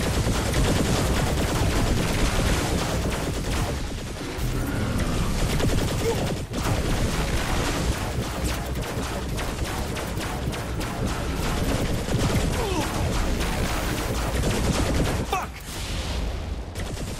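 Heavy cannon and weapon fire in the Saints Row: The Third video game, a continuous loud barrage of blasts and explosions sustained throughout with brief dips.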